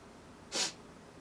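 A single sharp sniff voiced in imitation of people sniffing, a brief breathy burst standing alone against near silence.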